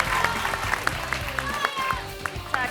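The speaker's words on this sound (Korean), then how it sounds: "학생분들 네, 박수 한번 부탁드립니다" High school students clap for a speaker at a youth economics talk event in Korea. The applause is steady and moderately loud, and a voice and tonal sounds run over it.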